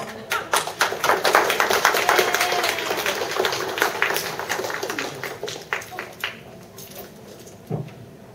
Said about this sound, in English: Give a big applause for Annie.